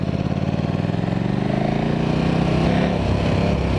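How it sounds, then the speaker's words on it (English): A KTM 1190 motorcycle being ridden, its engine note loud and close, droning steadily and rising in pitch as it accelerates, with no talk. "this is the KTM 1190. My buddy Keith's let me take it for a spin."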